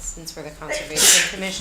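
A single sharp sneeze bursts out near the end of a town Conservation Commission meeting, following brief speech from people in the room.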